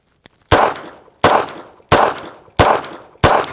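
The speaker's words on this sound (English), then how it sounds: "5-shot string with about a 1-second interval" Five sharp pistol shots fired one after another at roughly even intervals of a bit under a second during a shooting drill, loud and close, with a faint click before the first.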